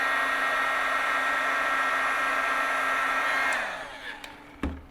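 A heat gun blows a steady, whirring hiss of hot air while shrinking heat shrink tubing, then winds down after about three and a half seconds, followed by a couple of small clicks and a knock.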